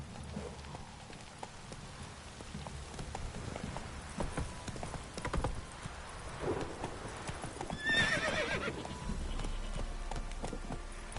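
Roach, a horse in The Witcher, gallops with rapid clip-clopping hooves and lets out a loud whinny midway, the hoofbeats continuing at a steady pace afterward.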